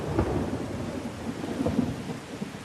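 Steady rain hisses while deep thunder rumbles low and continuous, close and heavy.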